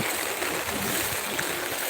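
Strong river current of the Kannara river rushing after the Peechi dam was opened, a steady, broadband roar of flowing water without pause, close and dense.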